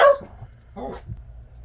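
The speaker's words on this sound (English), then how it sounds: "My apologies for the dog." A single sharp dog bark at the start, followed by a couple of softer yelps or whimpers over a low background hum.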